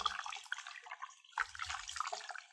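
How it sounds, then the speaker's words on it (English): Water is poured over a baby's head above a bathtub, a quiet, close splashing and trickling that comes in two uneven bursts with a short lull between. "I'm just going to run water all over this baby's hair."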